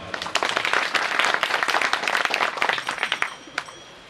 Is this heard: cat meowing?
no